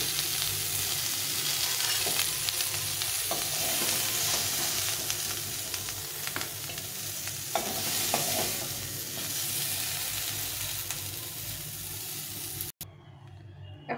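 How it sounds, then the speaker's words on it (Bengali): Cauliflower frying in oil in a pan sizzles steadily while it is stirred, with occasional scraping strokes, before the sizzle suddenly drops away near the end as the pieces are lifted out. "ফুলকপিগুলোকে ভেজে নিয়েছি, এখন এগুলোকে উঠিয়ে নেব।"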